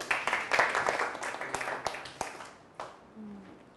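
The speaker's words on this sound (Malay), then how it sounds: "Okey, bagi tepukan dekat Hadi" A classroom of students claps for a classmate, a few seconds of scattered, moderately close applause that thins out and stops.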